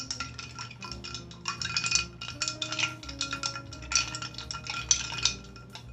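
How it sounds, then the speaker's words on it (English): A spoon stirring a drink of Zing 72 gin, repeated quick metallic clinks and scrapes against the glass in an uneven rhythm, close and fairly quiet with no talk. "Ever stirring."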